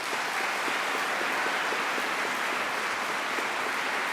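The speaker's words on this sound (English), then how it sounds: "can we get a round of applause for the academics and support staff?" A large crowd at a ceremony honouring academics and support staff applauds with steady, even clapping that stays loud throughout, with no talk over it.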